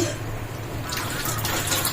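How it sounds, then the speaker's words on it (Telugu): Water splashing into a vessel to rinse soaked flattened rice for dosa batter, a short close burst of pouring and sloshing that starts partway through over a low kitchen background, with no talk. "ఈ వాటర్ అన్ని నంపేసుకొని ఇంకొంచెం కొత్త వాటర్ వేసుకొని ఒకసారి కడిగేసుకొని వేసుకోవాలి"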